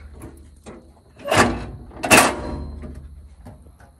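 Two sharp mechanical clacks, a roll cart drawer lock snapping locked and then unlocked, with quiet between them.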